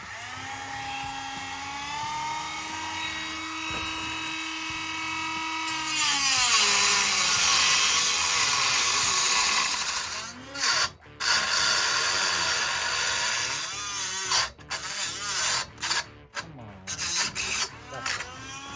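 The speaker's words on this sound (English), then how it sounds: "So we're going to go ahead and use the Dremel tool to cut this pipe out" A Dremel rotary tool whines at high pitch, then grinds harshly as it cuts through a leaking water pipe, with the cutting breaking into choppy bursts toward the end.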